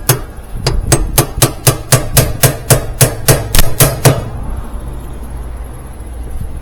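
A spanner nut is tapped onto the shaft of a Roper washer during a rebuild: about fifteen sharp metallic hammer taps come in a quick, even rhythm, close and loud, then stop, leaving quiet room tone.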